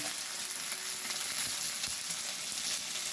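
Vegetables with carrot and onion frying in a pan with salt for daliya give off a steady, dense sizzle with faint stirring clicks, close and continuous, with no voices.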